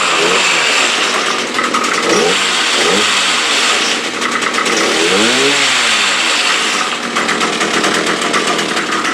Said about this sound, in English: So it revs up fine, just no blade action whatsoever.